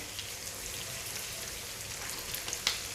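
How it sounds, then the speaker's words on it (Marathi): Okra sautéing in a pan with ajwain for besan bhindi, a steady soft sizzle and crackle with a faint light clink near the end. "भेंडी आपण ह्यामध्ये परतून घेऊया"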